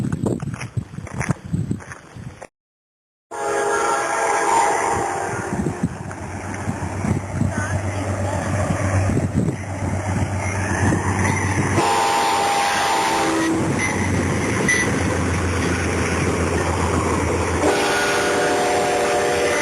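A train passes near the Alviso slough on an outdoor nature walk: a loud, continuous rumble and rattle for most of the stretch, with a brief dropout and sustained tonal horn-like bands running under it.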